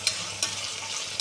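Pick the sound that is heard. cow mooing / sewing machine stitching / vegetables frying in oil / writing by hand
vegetables frying in oil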